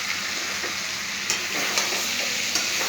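Mutton goes into a pressure cooker and is stirred for a mutton jhol, with a steady loud sizzle and hiss overlaid by a few light scraping clinks of the spoon, no speech.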